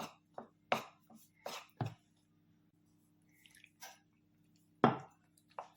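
Besan batter for stuffed green chilli bajji being stirred as water goes in bit by bit, giving wet squishing and sloshing strokes in short irregular bursts with quiet gaps, close and fairly soft.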